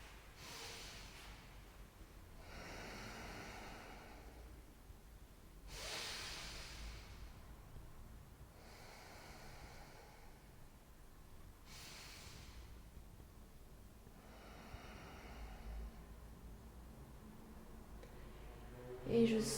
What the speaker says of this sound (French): je vais prendre 3 respirations complètes